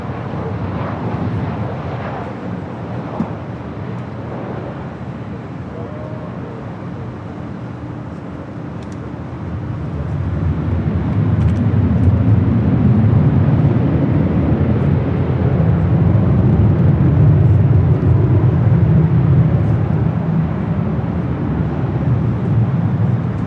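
A Delta airliner takes off from runway 24 left at LAX: a distant jet rumble builds midway into a loud, sustained roar that holds steady to the end, with no talking.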